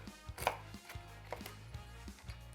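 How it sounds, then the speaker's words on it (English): A knife roughly chops pecans on a board, a quick run of uneven thuds and clicks over a couple of seconds, close by with no talking. "So I'm just going to give these guys a rough chop."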